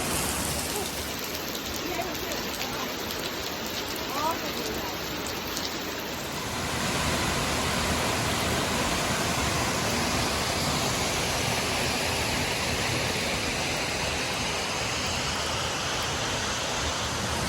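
Water rushing steadily over an icy waterfall beside a frozen bluff with icicles in the Ozarks, a broad continuous roar that grows louder and fuller partway through, with no voices over it.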